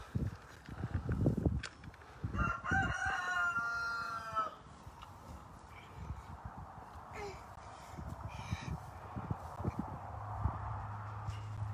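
A ranch rooster crows once in a loud, rising-and-falling call that lasts about two seconds, mixed with scuffling and footsteps nearby and a low steady hum afterward.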